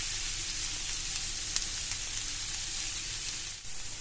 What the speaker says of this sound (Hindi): प्याज को हल्का सा गोल्डन ब्राउन करना